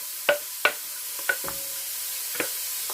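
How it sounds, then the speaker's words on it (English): Chopped vegetables frying in a pan for a vegan Mexican bean stew give off a steady soft sizzle, punctuated by several sharp utensil clinks against the pan, with no talking. "So I'm going to pop that in the pan. And we're going to fry that until"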